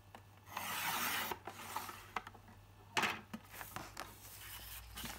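A paper trimmer slices cardstock with close, soft scraping and rasping strokes, a longer swipe followed by several shorter ones, fairly quiet.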